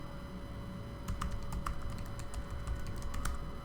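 Rapid key clicks on a computer keyboard as a password is typed on a FreeBSD system, a quick irregular burst of taps starting about a second in over a steady background hum, close and fairly clear.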